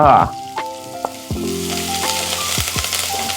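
Curry leaves drop into hot oil with urad dal, bursting into a loud crackling sizzle after a brief clatter, then settling into steady frying with sharp pops and stirring sounds.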